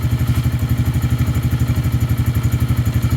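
Lifan King motorcycle engine idling steadily close by, a loud, even low-pitched putter with a fast regular pulse and light mechanical clatter, no voices.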